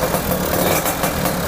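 A Yamaha Alfa motorcycle engine idles steadily with its exhaust fitted, a continuous close, moderately loud broadband rumble with slight pulsing and no voices.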